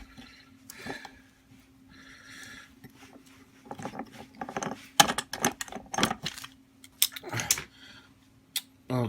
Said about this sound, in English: Let me get this vise out of the way here.